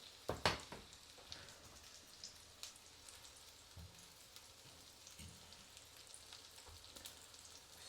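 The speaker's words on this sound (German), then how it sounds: "Ab und zu mal einfach durchschwenken, damit sich das Öl auf der Fläche, wo es angebraten wird, auch schön verteilt." Zucchini fritters fry in oil in a pan with a soft, steady sizzle throughout. A few sharper spatters and clicks of the pan are mixed in, with an especially loud burst near the start.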